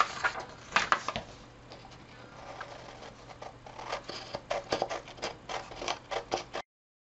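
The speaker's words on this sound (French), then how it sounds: "je vais commencer par découper proprement mon patron" Scissors cut out a paper sewing pattern for a fabric face mask. Soft, quick crisp snips and paper rustles repeat steadily for about six seconds, close to the microphone, over a faint low hum.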